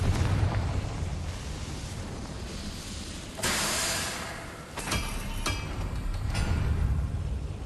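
A Confringo blast spell goes off in Hogwarts Legacy on PS5: a sudden broad whooshing burst in the middle of a steady game ambience, followed by a few sharper pops and a lingering rumble.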